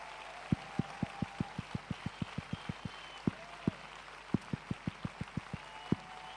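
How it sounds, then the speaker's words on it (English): Sparse, evenly spaced single claps ring out quietly, as if only a few people in an audience are slowly clapping for a woman being honored. "Can you all give her a round of applause?"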